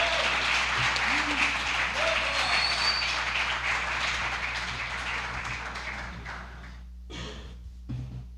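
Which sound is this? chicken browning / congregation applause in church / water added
congregation applause in church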